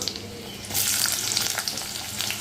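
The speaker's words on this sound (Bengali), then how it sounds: "এদিকে পাঁচ ফড়ং দেবো শুকনো লঙ্কা পেঁয়াজ লঙ্কা পাঁচ ফড়ং দিয়ে দেবো" Panch phoron and dried chillies hitting hot oil in a home kitchen, starting quiet and then swelling into a bright, crackling sizzle with sharp pops, loud and close with no voices.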